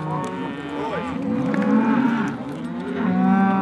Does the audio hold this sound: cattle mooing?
yes